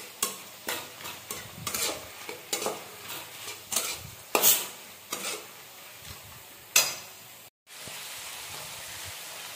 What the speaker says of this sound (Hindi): ये प्याज हम लोग फ्राई कर रहे हैं